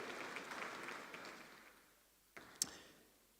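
Audience applause at the Nigerian launch of an agro-industrial processing zones programme, moderate clapping that fades away within two seconds, followed by a couple of isolated sharp knocks.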